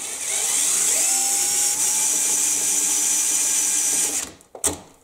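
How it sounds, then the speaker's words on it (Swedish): A power drill whirs steadily for about four seconds, spinning a motor stator to generate current for a 20-watt halogen lamp, its high motor whine holding level before it stops with a couple of short clunks. "så snurrar man lite på den här borrmaskinen"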